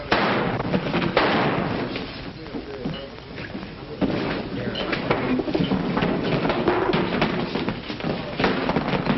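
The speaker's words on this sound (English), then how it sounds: "The shots came from the back door." Dense, rapid bursts of sharp cracks and thuds, like a volley of gunfire at close range, sustained without pause for several seconds.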